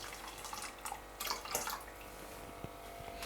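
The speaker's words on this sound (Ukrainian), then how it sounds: "Джерельною водою він наповнив казан" Spring water poured into a cauldron, splashing and trickling in irregular bursts with quiet gaps between, close and fairly soft.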